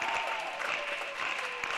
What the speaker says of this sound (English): the claps now starting to build here in the cathedral